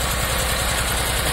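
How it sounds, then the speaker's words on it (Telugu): Tractor-driven double-engine motor pumps run steadily, drawing water out of a flooded area. Their engines give a continuous, close, loud drone with a throbbing low rumble. "ప్రజెంట్ ఇక్కడ 3 ట్రాక్టర్స్ మాత్రం రన్ అవుతున్నాయి. చూసారా, ఇది డబుల్ ఇంజిన్ మోటార్స్ అన్నమాట."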